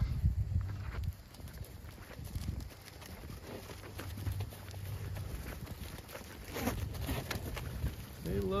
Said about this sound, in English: So I'm gonna unhook this and let these cows through